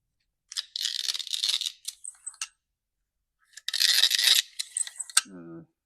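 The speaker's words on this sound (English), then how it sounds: "Let's put the recoil back on." The recoil starter is fitted back onto a Stihl MS362 chainsaw, making two bursts of close plastic scraping, clicking and rattling, then a short ratchet-like whir at the end, with silence between.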